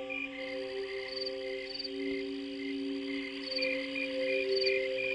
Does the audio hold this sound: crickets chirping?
yes